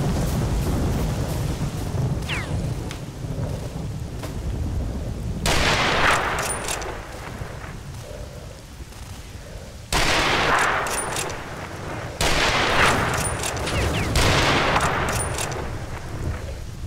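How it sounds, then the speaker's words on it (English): Rifle fire and blasts from the shooter game STALKER: Shadow of Chernobyl sound in loud, booming bursts that cut in abruptly, over rumbling background noise, with no speech. "Not a bad rifle, I'll say that much."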